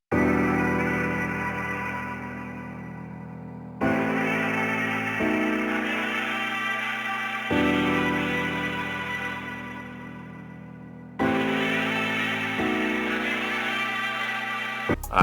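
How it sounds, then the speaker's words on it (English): A chopped trumpet loop sample in FL Studio, run through a flanger and Valhalla Vintage reverb, plays as sustained brassy, echoing phrases that abruptly restart about every four seconds, loud and without voices. "I cut up the trumpet loop, and this is what it sounds like"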